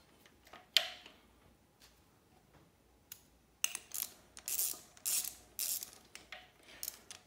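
Metal clicks, ratcheting and tool clatter as a harmonic balancer puller is fitted onto the tabs of a 5.3 LS engine, starting sparse with a sharp clank, then turning into a run of loud, close bursts of ratchet strokes near the end.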